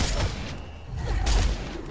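Video game gunfire in a playful shooting match, two short bursts of rapid shots with booming low thuds, loud and close.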